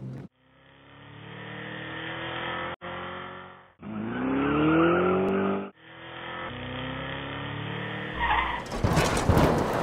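A car engine droning and revving through several bursts with tires squealing in long sliding pitches, loud and close, ending in a noisy rushing clatter.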